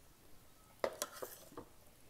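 A metal lid settles onto an Instant Pot of tilapia fish curry with a few sharp clinks and a short rattle, close by in a quiet kitchen.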